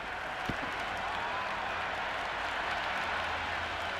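Cricket crowd in the Cricket 26 video game during a Big Bash match, Sydney Thunder vs Brisbane Heat: a dense, steady wash of applause and crowd roar throughout, fairly distant and even, with no commentary over it.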